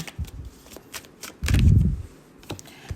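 Fortune-telling cards are shuffled close up: soft riffles and taps lead into a fuller riffle burst near the middle, with quiet handling sounds around it and no talk.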